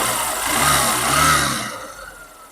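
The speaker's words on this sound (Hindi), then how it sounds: "इंजन की साउंड भी बहुत ही बेहतरीन है, आप लोग सुन सकते हैं।" A motorcycle engine runs steadily after a piston ring replacement, with a loud, rough mid-range idle that swells slightly before dropping off near the end.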